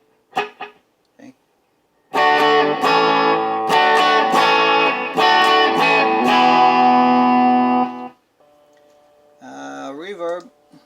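Electric guitar on a blue Smiger S-G3 plays a clean tone through a delay effect. Ringing notes and chords repeat for several seconds, and brief talk comes before and after the playing.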